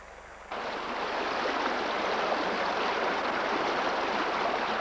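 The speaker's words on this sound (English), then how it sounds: "In November, the watercourses come to life again, and where they flow into the flatter areas of this rolling country, they spill out to form great pools." A stream flows steadily as seasonal watercourses refill in rolling European countryside, a continuous, fairly loud rushing wash of water that swells in abruptly after a quiet opening moment and then holds constant.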